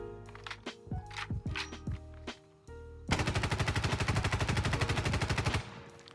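Video-game weapon fire: several spaced single shots ring out, then a long sustained rapid burst of evenly timed automatic fire hammers for about two and a half seconds before stopping.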